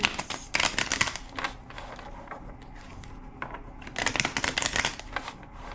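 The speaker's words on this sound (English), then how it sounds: "2 more shuffles." Two bursts of rapid riffling card shuffles, crisp and close, separated by quieter handling of the deck.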